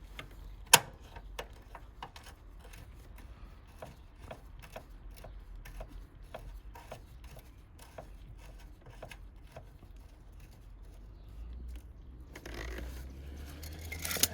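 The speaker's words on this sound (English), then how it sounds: "And now you're going to take your torque wrench" A torque wrench tightens a flare nut on a Fujitsu 4-zone outdoor AC unit, giving a steady run of sharp, close ratcheting clicks, about two per second, with one louder snap at the start and rustling handling noise near the end.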